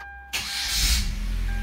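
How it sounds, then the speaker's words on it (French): A Hyundai Genesis Coupe engine cranks and catches after a brief silence, a starter whir swelling into a close, steady idle rumble with no talking. "Allumons la voiture."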